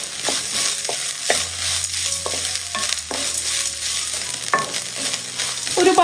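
Urad dal and grated coconut roast in a hot pan while being stirred, giving a steady soft sizzle broken by repeated scraping and clattering strokes of the spoon, close and fairly loud with no talking.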